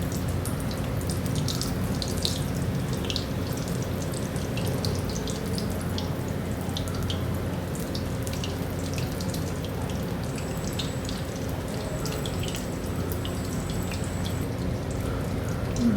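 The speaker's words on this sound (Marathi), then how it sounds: "ते याप्रमाणे मी तळून घेते." Chili fritters stuffed with potato filling fry in hot oil, making a steady, close hiss and crackle of sizzling that holds even throughout, with no talk over it.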